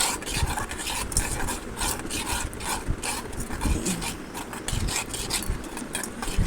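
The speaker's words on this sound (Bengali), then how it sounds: "ভালো করে চামচের সাহায্যে আমি এটা নাড়াচাড়া করে নেব" A spoon scrapes and stirs chili powder and salt in a bowl, a steady rapid rasping that continues throughout at close range, with no voices.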